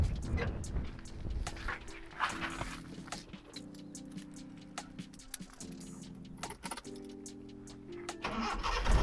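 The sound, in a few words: Nissan 1400 car engine starting after repair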